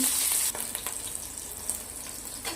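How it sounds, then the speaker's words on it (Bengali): Cardamom, cinnamon, cloves, green chilli and cumin sizzling in ghee, a close, steady hiss and crackle with a few light stirring scrapes over a couple of seconds. "এবারে এর মধ্যেই ছোটো এলাচ, দারচিনি, লবঙ্গ, কাঁচা লঙ্কা, সাই জিরে, এর মধ্যে একটু ঘি দিয়ে দিলাম"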